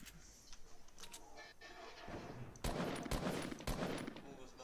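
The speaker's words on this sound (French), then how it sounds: "Vous tirez sur qui les mecs là?" Gunfire in the video game Fortnite during disco mode, with quiet scattered shots followed by louder, denser bursts of rapid fire.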